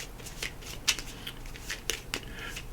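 Tarot cards shuffled and handled during a reading, giving soft papery riffles and several sharper flicks and snaps of card edges, close and fairly quiet, with no talking.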